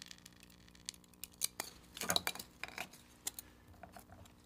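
A styro cutter slices through a styrofoam cone in quiet, sharp crackling scrapes and snips, with a denser burst in the middle, heard close and alone.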